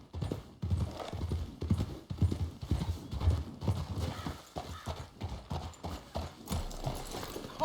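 Horse hooves clip-clop on the ground in Red Dead Redemption 2, a steady rhythmic gait close by with a brief whinny and faint background rumble, no talking over it.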